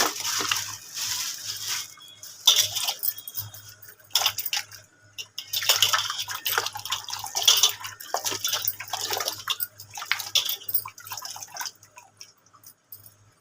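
Dried mango pieces (khatai) being washed in water: irregular splashes, drips and small knocks of wet pieces against a container, fairly close and continuous with short pauses, and no talking.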